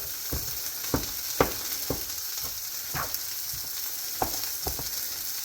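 Ground beef and onions fry in a pan with a steady, dense sizzle and a scattering of sharp crackles and pops, close by with no talk.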